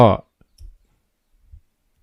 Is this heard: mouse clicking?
yes